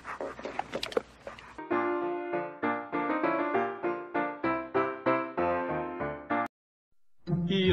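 A dog in a film barks in a quick series of rhythmic, close yaps, with a burst of other film sound before and after and a brief silent gap near the end.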